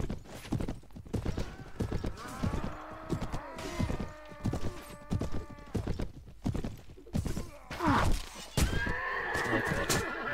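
In the video game Clash of Kings, hooves clip-clop steadily while a horse whinnies repeatedly, loud and close, with a final drawn-out neigh near the end.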